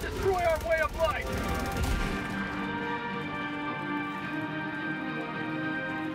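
A Gatling Sentry in the Helldivers 2 video game fires rapid bursts of gunfire for about two seconds, dense and loud with heavy booms, then the shooting stops and a steady in-game tone remains with no talk.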